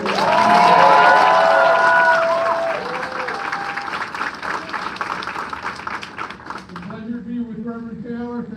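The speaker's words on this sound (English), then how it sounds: "Let's give him a big round of applause." An audience at a Teamsters union local gathering bursts into loud, sustained applause with some cheering, peaking early and then slowly fading while a speaker's voice rises over the clapping.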